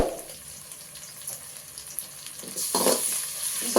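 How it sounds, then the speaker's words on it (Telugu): Ginger garlic paste sizzles and fries in a pan while being stirred, a soft steady crackle with scraping strokes that grow louder and hiss more strongly near the end. "పచ్చివాసన పోయేంత వరకు బాగా కలుపుకోవాలండి"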